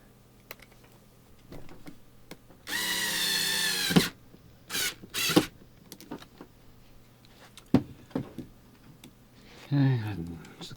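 A power drill drives screws to mount a Zoom pedal bracket onto a wooden pedal board, with one long whirring run followed by two short bursts and a final brief spin amid quiet handling.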